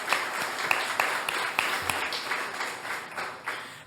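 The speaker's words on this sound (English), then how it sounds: "Round of applause for Wendi and SPT and everybody who's here." Scattered applause at a small-press poetry reading mixes dense clapping with a few louder, distinct claps from a modest audience.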